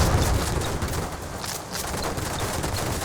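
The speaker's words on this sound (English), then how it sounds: "But now with the Gatling cannon within range, I think we're giving back as fast as we're getting." Rapid Gatling cannon fire in the airship battle game Airships: Conquer the Skies, a dense continuous rattle of shots with scattered impacts, steady and loud with no pauses.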